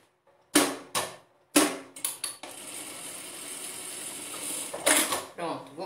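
A sewing machine stitches fabric while sewing a zippered pouch, starting with a few short clattering bursts, then settling into a steady, continuous mechanical whir that runs for several seconds before more sharp handling knocks.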